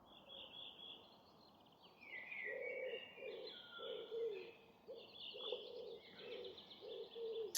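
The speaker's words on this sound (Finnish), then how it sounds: "Kyyhkykin tuolla vetää niin saatarasti." A pigeon coos outdoors at a distance, a faint series of soft, evenly spaced low calls repeating over several seconds while small birds chirp above it.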